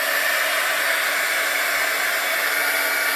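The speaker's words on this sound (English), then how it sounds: "So I'm going to start my heat gun now and show you how I heat this up." A heat gun blows a continuous, even hiss of hot air onto a piece of a plastic water bottle. The sound is steady and close, with no pauses and no talking.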